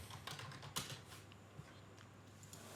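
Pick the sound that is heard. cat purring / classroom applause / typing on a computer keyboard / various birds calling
typing on a computer keyboard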